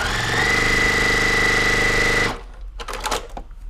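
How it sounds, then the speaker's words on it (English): A sewing machine chain pieces a quilt block with a 1/4 inch seam, stitching in a fast, steady, loud run that stops abruptly, followed by a few soft handling clicks. "I'm going to literally chain piece this whole thing all at once."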